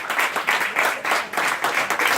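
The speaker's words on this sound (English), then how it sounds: "a big round of applause, un gran aplauso" Audience applause at a company training session aboard the Carnival cruise liner, rhythmic, fairly close clapping pulsing in quick waves, with no talk over it.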